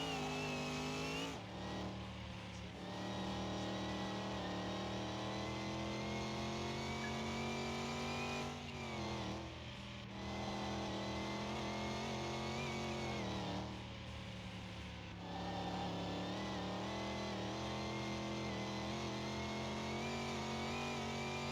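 A race car engine in Car Mechanic Simulator 2021 holds a steady, loud drone in third gear, its harmonic pitch rising slowly across several pulls, with brief dips at each shift before climbing again.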